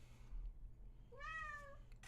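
Pet cat giving a single short, faint meow near the end, rising then falling, heard alone against a quiet room hum with no talking.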